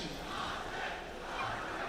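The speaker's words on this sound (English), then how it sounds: "And we hear the crowd already loving it from Ame" Arena crowd at The International 2025 Dota 2 tournament cheering during a lower-bracket match, a steady, dense roar filling the whole two seconds without a break.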